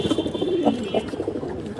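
Moulting pigeons in a cage, a few soft, close guttural coos rising and falling over a short stretch, with light background noise.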